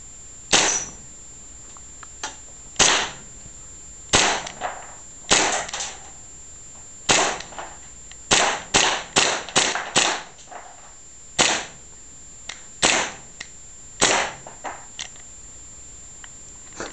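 A Wilson Combat gas airsoft pistol fired indoors: sharp, snappy cracks, single shots and quick strings of three to five, evenly loud and close, with a faint steady hiss between them.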